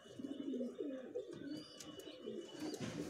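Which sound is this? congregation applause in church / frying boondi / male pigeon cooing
male pigeon cooing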